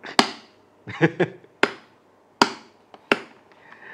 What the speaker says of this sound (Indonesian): Cuman bunyi pas di ke atasnya keras banget ya